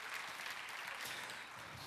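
Applause from a conference audience at a marketing talk, a steady broadband patter of many hands filling the short moment, fairly quiet and even throughout with no voices.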